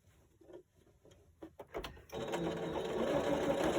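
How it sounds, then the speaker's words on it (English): A sewing machine straight-stitches folded fabric for a pot holder, starting after a few soft handling taps and then whirring continuously and loudly to the end. "just keep straight stitching and go to the corner and turn"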